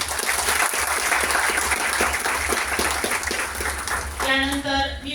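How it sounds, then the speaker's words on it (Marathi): Audience applause at a college inauguration ceremony, a dense, steady clapping from a large crowd that holds for about four seconds and then thins out as a voice begins speaking near the end. "टाळ्या वाजवा सर्वांनी"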